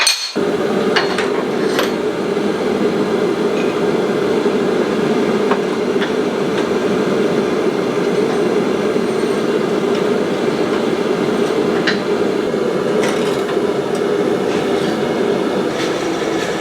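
A power hammer pounds scrap steel in a rapid, relentless mechanical rhythm while forging parts for bells made from gas cylinders, loud and close, with a steady droning clatter throughout and no voices.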